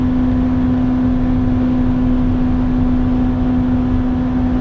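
A Honda CRX engine under full throttle at the Nürburgring, a loud, steady, unbroken drone with a strong sustained tone from inside the car.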